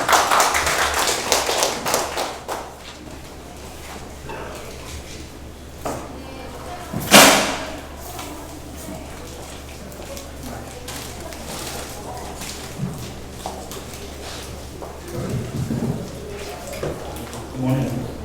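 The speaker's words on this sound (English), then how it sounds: "Please welcome him with a big applause." Applause greets a visiting lecturer at a special lecture, a brief dense patter of clapping at the start, then scattered taps and one sharp knock amid low room noise and some voices.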